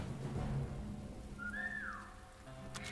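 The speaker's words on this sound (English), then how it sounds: "Wonder if I could whistle" A character in the video game War Mongrels gives a single short rising whistle to lure an enemy, faint and distinct above a rain-like hiss and low ambient rumble.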